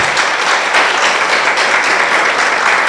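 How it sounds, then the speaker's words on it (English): A crowd at a memorial lecture applauds the parents, dense and loud clapping that holds steady from start to finish with no voices over it. "Let's clap for them."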